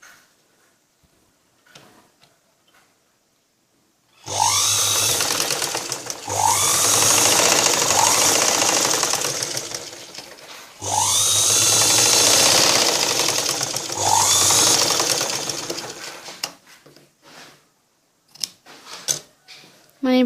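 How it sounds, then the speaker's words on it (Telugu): A sewing machine runs in two long, loud bursts of stitching on a blouse, each lasting several seconds with a short pause between, with quieter handling sounds before and after. "ఇప్పుడు మనం కట్ చేసిన దగ్గర నుంచి స్టిచ్చింగ్ చేసుకోవాలి."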